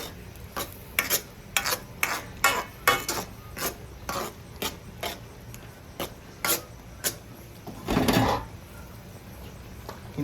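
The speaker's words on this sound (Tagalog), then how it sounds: "Pag-mixin hanggang sa maluto po ang ating ginisang munggo." A utensil stirs ginisang munggo, sautéed mung beans with pork, in a cooking pot, making a steady series of sharp scrapes and clinks about every half second. A longer, louder scrape comes near the end.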